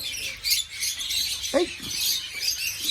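Birds chirp at a pet sanctuary: a few short, high tweets and calls scattered over a faint, steady background, with one brief lower squawk-like call in the middle.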